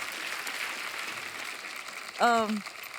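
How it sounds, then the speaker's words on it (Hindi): Studio audience applause for arriving guests on a Hindi comedy talk show, a steady dense patter for about two seconds before a single voice calls out briefly over the end. "एक बार जोरदार तालियां हमारे मेहमानों के लिए"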